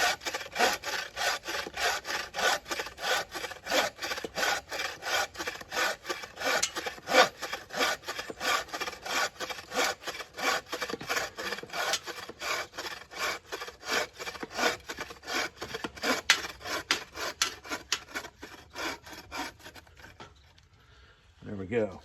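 Bucksaw built from axe-handle spare parts cutting through wood, with fast rhythmic rasping push-pull strokes repeating steadily and close for about twenty seconds before stopping.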